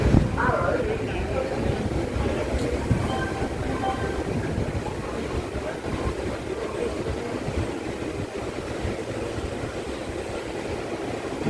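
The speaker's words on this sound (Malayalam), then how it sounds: "കായംകുളം ജംഗ്ഷൻ ട്രെയിൻ ഡിപ്പാർട്ട് ചെയ്തിട്ടാ" Continuous low rumble and rattle of the Parasuram Express rolling on its rails near Kayamkulam Junction, heard from inside the carriage, steady and moderately loud throughout with occasional clatter.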